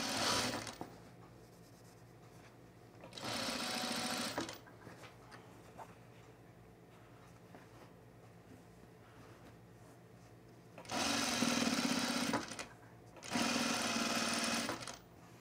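A sewing machine stitches the waist seam of crinkle cotton culottes in three short bursts of fast, even whirring, separated by quiet pauses, close up and alone.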